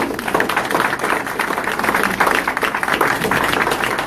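A political club meeting audience gives a round of applause for a speaker, dense and loud clapping sustained evenly for about four seconds without talk.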